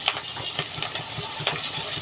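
A bowlful of onions frying in hot oil for a hilsa, potato and cucumber curry, sizzling close up while a utensil stirs in a quick, uneven rhythm of scrapes and taps, with no voices.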